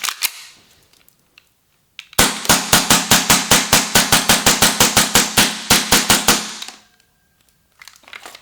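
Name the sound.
Tokyo Marui V10 Ultra Compact 1911 airsoft pistol firing full magazine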